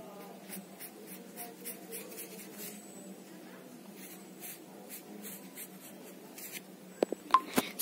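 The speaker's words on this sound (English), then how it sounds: "take some of the sketch pens and we have to draw on these lines" Sketch pens drawing lines on pistachio shells for a craft flower pot give a run of soft, rhythmic scratchy strokes. A few sharper taps and clicks come near the end.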